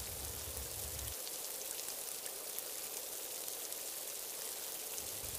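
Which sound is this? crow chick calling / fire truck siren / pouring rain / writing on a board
pouring rain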